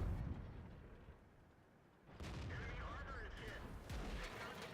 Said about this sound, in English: Oh, that's an artillery hit.